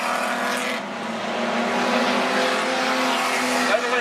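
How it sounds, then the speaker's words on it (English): Outlaw sedan race car at Macs Speedway roaring past at night in a race, a loud sustained engine drone with tire squeal near the end, and a commentator speaking over it. "Car comes past us now"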